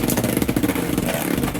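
Beyblade X spinning tops launched into a stadium and clashing, a dense continuous rattle and metallic clatter with rapid grinding scrapes, loud and close throughout.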